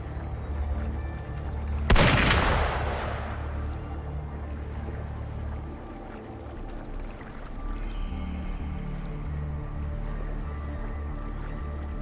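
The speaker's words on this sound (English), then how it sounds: "Gunfire! We've got intruders." A single loud blast of gunfire erupts in the Wuthering Waves video game, a sharp boom with a fading reverberant tail, followed by low rumbling ambience and scattered background noise.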